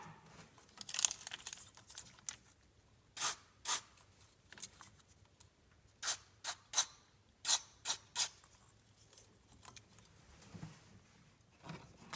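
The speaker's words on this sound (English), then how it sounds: "Go ahead and give it a spritz." A spray bottle spritzes cleaner onto electrical components in a car engine bay, giving quick sharp hisses, single and in clusters of two or three, close and alone over a quiet background.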